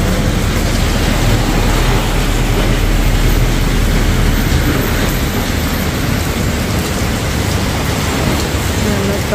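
Heavy rain pours down in a steady, dense, loud hiss that fills the whole stretch without a break and with no pauses or changes in strength.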